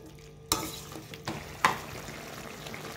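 Chicken curry being stirred in a pan, with a few distinct scraping knocks of the spoon over a low background sizzle; no voices.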